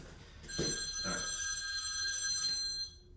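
A telephone bell rings in a quiet room, sounding as a bright, metallic trill with two quick onsets followed by a sustained ringing tone. A brief spoken word overlaps near the start.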